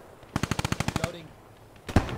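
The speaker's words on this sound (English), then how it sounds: "good suppress with the MG there" A machine gun in a video game fires one rapid burst of about a dozen evenly spaced shots. Then comes a quiet pause and one more sharp report. The gunfire is loud and close.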